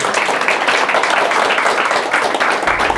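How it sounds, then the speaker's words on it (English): An audience applauds steadily at a talk on threefolding and social health, a dense continuous wash of clapping that holds its level throughout. "Applause first."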